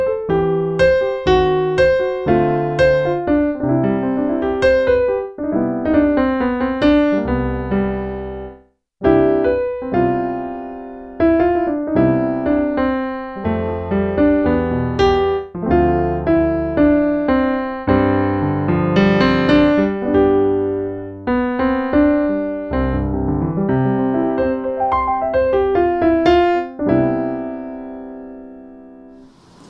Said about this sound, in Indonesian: Sekarang kita akan coba suara pianonya.